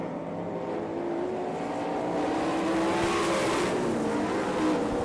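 Sprint race cars on the All Star Circuit of Champions at Florence, Kentucky, a continuous loud engine roar from a pack at speed, pitch swelling and shifting as cars pass, with no voices.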